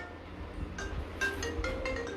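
A mobile phone ringtone for an incoming call plays a short melodic pattern of bright tones over a quiet room, moderately loud and close, with no speech.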